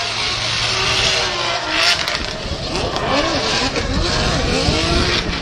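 A BMW E92 drift car at a Formula Drift Japan qualifying run at Ebisu revs hard and slides, its engine note rising and falling in sweeping pulls under loud crowd and commentary ambience, with tire noise throughout.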